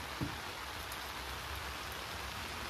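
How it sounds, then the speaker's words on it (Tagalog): Heavy rain pours steadily at a campsite, a dense continuous hiss of drops drumming on surfaces with no pauses, loud and close throughout. "Yan ang ulan, aba."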